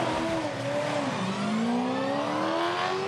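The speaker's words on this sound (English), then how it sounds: "that start had pretty bad wheel spin" Supercars race car at a practice start at the Townsville 500, engine roaring steadily with a rising pitch as it launches with heavy wheel spin, loud and continuous with no talk.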